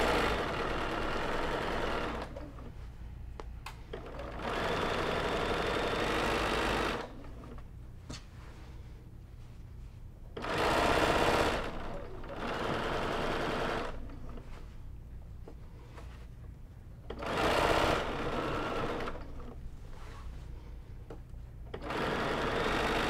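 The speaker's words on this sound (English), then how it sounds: "just to make sure it doesn't like kind of get off track as I'm sewing." A sewing machine stitches a tote bag in several bursts of steady, rapid mechanical whirring, pausing between runs with quieter handling noise, heard up close.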